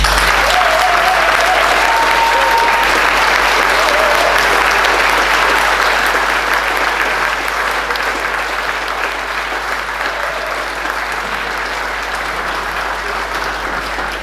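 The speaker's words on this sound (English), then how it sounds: "So please can we give a big round of applause and a big thank you to Dan Bowker." Sustained, dense audience applause fills a hall at a youth brass band's 50th anniversary concert, loud and steady throughout with a faint crowd murmur, tapering only slightly toward the end.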